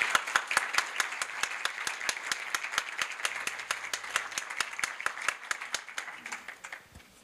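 At a university business-school event, a modest audience gives sparse, crisp applause to welcome a speaker, with distinct individual claps close by that thin out and trail off near the end.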